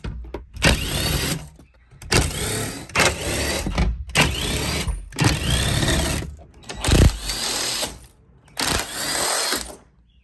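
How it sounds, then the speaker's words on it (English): Cordless drill fitted with a socket backs out the roof bolts on a Jeep Wrangler JL, giving five bursts of whirring motor, each a second or two long, separated by short pauses, loud and close. "we're going to cheat and use this drill with the socket that I have to make it much faster"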